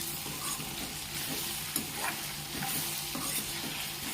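Okra frying in a pan sizzles steadily while being stirred with a few soft scraping strokes, a constant close hiss with no voices.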